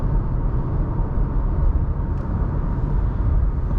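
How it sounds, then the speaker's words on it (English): Inside a 2021 Subaru Crosstrek Limited on the move, a constant low road rumble blends with wind hiss, steady and even throughout, with no one speaking. "So yeah, road noise, wind noise is pretty normal."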